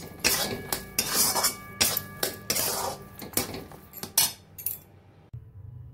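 Fried cashews and raisins being mixed into sugar-free suji in a pan, heard as repeated loud metal scrapes and clinks of a spoon against the pan in an uneven rhythm, close up, ending in quiet.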